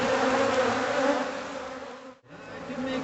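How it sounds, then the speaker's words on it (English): Dense swarm of honey bees buzzing around an open hive, a steady close drone with layered harmonic hum that briefly dips near the end before swelling again, no voices. "Oh yeah, nice and look at all those bees."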